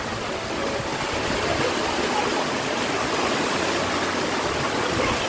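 Overflowing water rushes past a house near Bharat Tal after rain, a steady, loud, dense roar that holds unchanged throughout with no voices.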